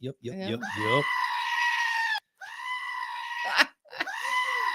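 A goat screams in a series of loud, harsh, drawn-out bleats, about four cries with short gaps between them, close and alone with no talk over them.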